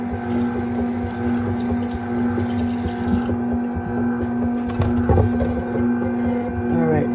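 Tap water runs over cucumbers being rinsed before juicing, a continuous splashing gush over a low appliance hum, with brief clatters of handling partway through.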